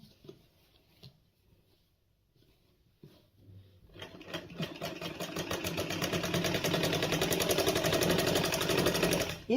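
After a few quiet seconds of light handling, a sewing machine starts stitching a palazzo seam and runs as a loud, fast, steady mechanical rattle to the end.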